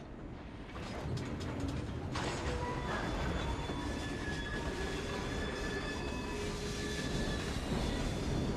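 A Victorian-era train runs steadily in Assassin's Creed Syndicate, a continuous rumbling roll with rattling wagons and thin squealing wheel tones, loud and unbroken after a brief quieter opening.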